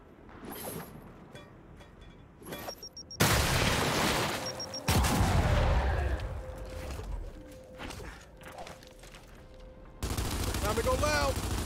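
A grenade explosion amid gunfire in Gears 5, with loud bursts of rifle fire, heavy booms and clattering mechanical noise across changing battle moments, under occasional voices.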